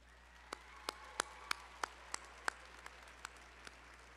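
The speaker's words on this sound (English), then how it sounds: "Graduates, please join me in a round of applause for the friends and family that helped get you here today." Scattered claps from an audience at a fall business school commencement ceremony, about a dozen separate sharp claps spread evenly over several seconds, faint and distant against a quiet hall rather than a full ovation.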